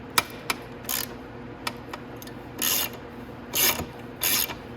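Socket wrench ratcheting on a motorcycle chain adjuster nut of a Venom X22R Max 250cc, several short clicking bursts with brief pauses, close and fairly quiet, no talk.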